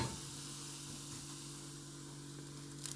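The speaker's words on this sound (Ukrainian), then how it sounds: "Даємо трошки кипятку. Бачите, яка реакція." Baking soda and aluminium foil reacting in freshly poured boiling water while cleaning silver, a faint steady fizzing hiss with a low hum underneath, continuous and without talk.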